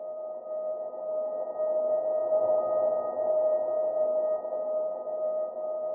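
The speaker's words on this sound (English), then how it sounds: "It's basically just a piano note with lots of reverb on it." A single sustained piano note drenched in heavy reverb, a smooth, steady ambient tone that hangs evenly for several seconds.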